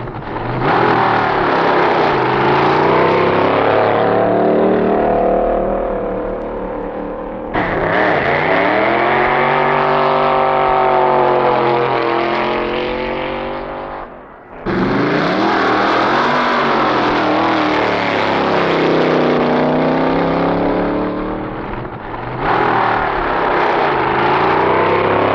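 Drag racing cars make pre-competition time trial runs at the 1963 NHRA Winternationals at the Los Angeles County Fairgrounds. Loud engines rev and roar in several long, sweeping bursts, each cut off abruptly before the next.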